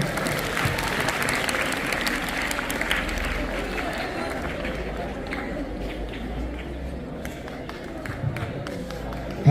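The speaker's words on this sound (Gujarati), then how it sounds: "બાળકો તાળીઓનો ગડગડાટ કરે." Schoolchildren clap in a loud, sustained wave at a Republic Day prize ceremony at a high school. Crowd noise and voices run beneath the applause, which keeps going and eases slightly toward the end.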